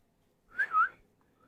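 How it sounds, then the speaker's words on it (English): A single brief whistle, a short rising-and-falling tone lasting under half a second, close and fairly clear against an otherwise quiet background. "There's a whistle."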